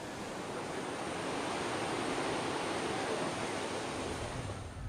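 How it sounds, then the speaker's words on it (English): Calm ocean surf at a beach in southern India, heard as a steady, continuous broadband wash of breaking waves with no distinct individual crashes and no voices. "Luckily, the ocean is calm today"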